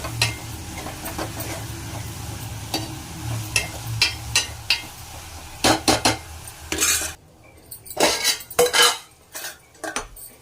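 Onions cooking in a pan, stirred so they don't burn: repeated metallic scrapes and clinks of a spoon against the pan over a low sizzle, growing busier and louder toward the end, with no voices.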